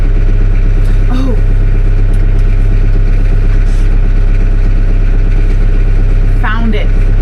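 A tractor engine idles steadily in a snowstorm, a low, constant rumble running through the whole stretch, with someone talking briefly over it.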